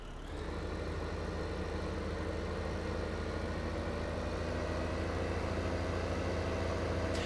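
A tracked tractor in Farming Simulator 15, hitched to a tedder, hums with a steady, low engine drone that stays even and continuous throughout.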